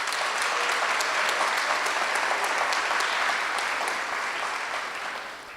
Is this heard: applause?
yes